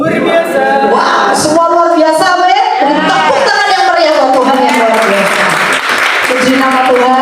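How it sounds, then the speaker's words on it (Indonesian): Congregation clapping at a church worship service in Jakarta, loud and continuous beneath a speaker's amplified voice and music, with a brief stronger burst of applause near the end. "Tepuk tangan yang meriah buat Tuhan yang luar biasa."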